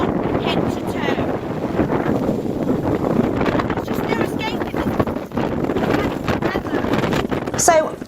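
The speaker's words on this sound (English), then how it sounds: "It's really windy." Strong wind buffets the microphone in loud, continuous gusts and rumbles outdoors on a windy hiking day, with a voice talking intermittently underneath.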